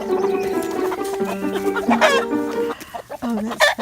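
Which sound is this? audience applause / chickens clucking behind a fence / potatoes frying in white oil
chickens clucking behind a fence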